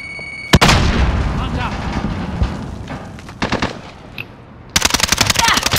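An explosion bursts near the start, followed by rapid machine-gun and rifle fire in bursts during a Call of Duty Modern Warfare (2019) match, loud and continuous with heavier volleys near the end.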